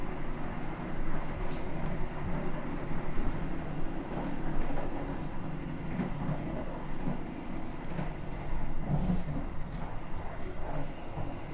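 Steady rumble of the Argo Bromo Anggrek express train passing straight through Cepu station at speed, a continuous low roar with faint rattling, heard from on board.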